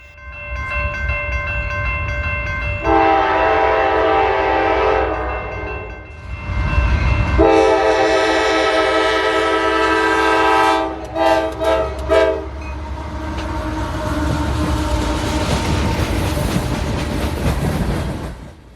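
A northbound Norfolk Southern manifest freight train climbing a hill blows its horn in loud, sustained blasts with a few short ones, over steady rumbling of rolling cars close by.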